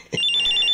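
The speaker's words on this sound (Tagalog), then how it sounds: "May tumatawag sa cellphone ko" A cellphone rings with a short electronic trill, a single bright burst of rapid warbling tones lasting under a second, close and loud.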